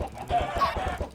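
Chickens on a crowded video game farm cluck in a busy, overlapping chorus, close and steady throughout with no talking.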